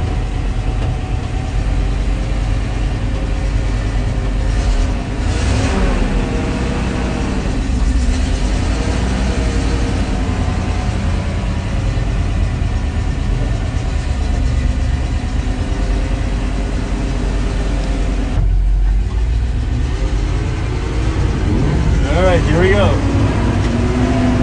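A Ural 375D truck engine runs steadily at close range, a continuous low rumble with a slight shift in tone partway through and voices talking over it.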